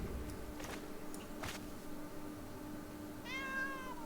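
A cat gives a single clear meow near the end, close and moderately loud, after a few soft rustles and taps in a quiet room.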